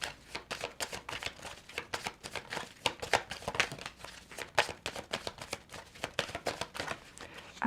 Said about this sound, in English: we're going to do one more final tarot card shuffle.